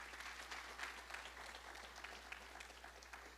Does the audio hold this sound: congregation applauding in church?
yes